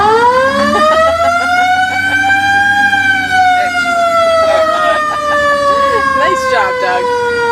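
A police car siren winds up into a loud, continuous, rising and falling wail right up close. People talk faintly underneath it.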